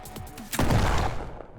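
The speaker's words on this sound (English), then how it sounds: "It took only a few moments for this gunshot to come." A single gunshot in an execution scene of a narrated story, a sharp loud blast followed by a long, rumbling decay after some quieter lead-in sound.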